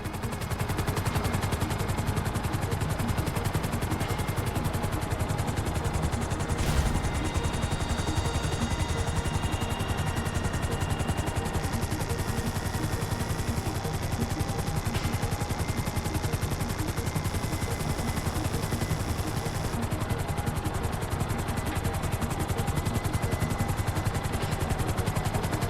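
A helicopter hovers in GTA V amid constant rotor and engine roar, with bursts of gunfire and clattering game effects layered over a dense, unbroken wash of noise.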